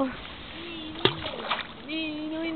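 A child swimming in water, with a sharp splash and some sloshing close by, while adults and someone talk over it.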